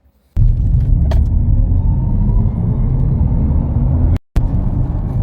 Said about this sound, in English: The song you are hearing is the car playing a song of acceleration.